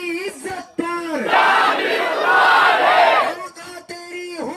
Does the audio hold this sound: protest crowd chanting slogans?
yes